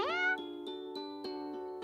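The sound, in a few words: cat meowing song in Purrfect Date video game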